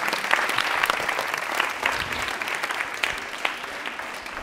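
Loud, steady applause from a television quiz show audience, many hands clapping continuously for several seconds with no voices over it.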